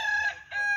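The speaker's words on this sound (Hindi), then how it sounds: "ये देखें आपको तो कुछ मुर्गियाँ नजर आ गई हैं" A rooster crows among chickens on a village farm near Rawalpindi, one short, loud, close call broken by a brief dip in the middle.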